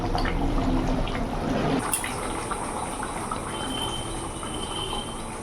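Aila fish tel jhal curry bubbles in oil in a pan, a steady close hiss and soft gurgling simmer that carries on evenly with no talk over it.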